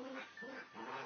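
Playing puppies and dogs whimpering and yipping, a few soft, high, strained whines in quick succession, faint and brief with no talking.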